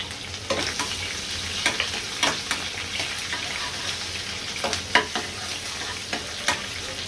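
Chopped garlic and onion fry in a pan where chili has already been lightly fried, giving a continuous crackling sizzle broken by repeated sharp spatula scrapes and taps, close and fairly loud.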